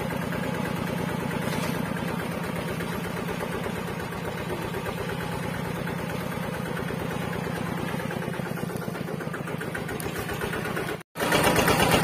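Engine of a modified ride-on plowing tractor running steadily nearby, a loud, even chugging idle with dense rhythmic firing pulses that cuts out briefly near the end before resuming.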